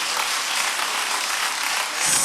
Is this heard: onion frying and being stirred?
no